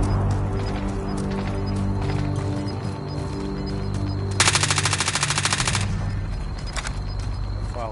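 Automatic gunfire rattles through a battle royale video game match, with steady loud bursts over in-game noise and a dense, sustained volley in the middle of the stretch.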